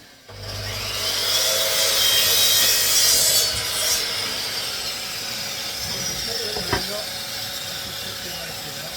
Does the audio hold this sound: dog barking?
no